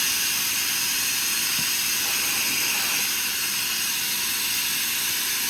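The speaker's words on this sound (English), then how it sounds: "let me show you what happens when I turn my compressor on" An air compressor drives a LubeCube coolant mist nozzle on a PrintNC CNC machine, producing a loud, steady, unbroken hiss that fills the whole stretch without change.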